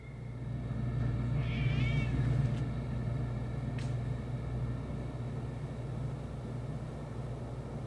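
A cat in a quiet, remote island village gives a short, wavering meow, fairly distant, over a steady low wind rumble, with a faint second brief call moments later.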